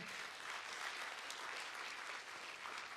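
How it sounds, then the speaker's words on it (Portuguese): A church congregation applauds steadily, the clapping soft and somewhat distant, holding an even level throughout with no voices. "Dê uma salva de palmas a Jesus, amém?"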